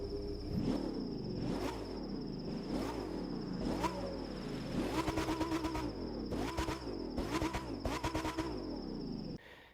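A Lamborghini Huracán Performante in The Crew 2 revs hard and loud, its engine note rising and falling in repeated bursts of acceleration alongside gear changes, with no talk over it.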